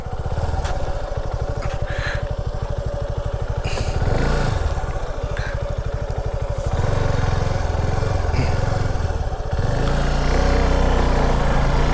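A Suzuki SF 250 motorcycle engine idles and putters steadily up close while the bike is turned around, with a low, even thrum that rises slightly in a few places and then settles.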